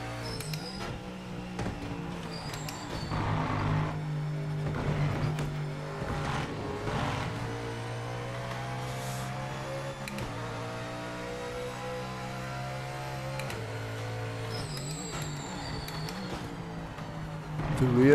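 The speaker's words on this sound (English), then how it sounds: "This is a lovely car to drive" A GT4 race car in the video game Project Motor Racing drives on track, its engine droning steadily and rising and falling through gear changes, with tonal harmonics sweeping up and down throughout under continuous game audio.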